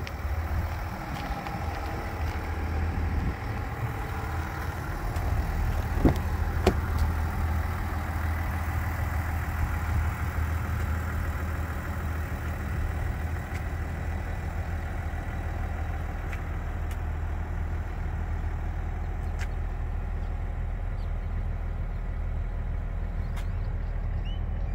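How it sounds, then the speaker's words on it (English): A 2023 Chevrolet Silverado RST 3.0L diesel pickup engine idles steadily with a deep, low rumble that stays constant throughout, with a few faint clicks over the top. "Here's a quick video of the 2023 Chevy Silverado with the diesel engine"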